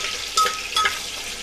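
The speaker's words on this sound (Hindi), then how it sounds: "अब हम इसको अच्छे से चला लेंगे।" Green chillies fry with cumin seeds in a hot pan, giving a steady sizzle with two brief scraping stirs of a spoon, close and alone.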